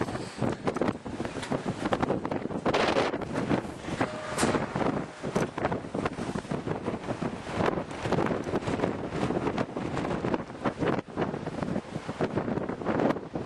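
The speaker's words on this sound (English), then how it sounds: "It's a little bleak up here today and a little windy." Gusty wind on a ski field in Scotland buffets the microphone in a continuous, rough roar that swells and dips throughout, with no voices.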